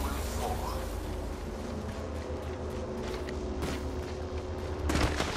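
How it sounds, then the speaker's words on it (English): Gunfire in the Apex Legends battle royale shooter, a steady wash of distant shots and impacts beneath game ambience, with a sharper burst of nearby shots toward the end. "I'm taking fire."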